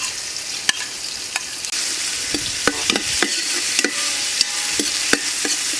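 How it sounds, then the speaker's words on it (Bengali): Loud, steady sizzle of shrimp frying in a pan with onion, ginger, cumin and salt, close up, with sharp scrapes and clicks of stirring punctuating the hiss. "এখন চিংড়ি মাছ, পেঁয়াজ, আদা, জিরা, লবণ সব একেবারে দিয়ে দিচ্ছি।"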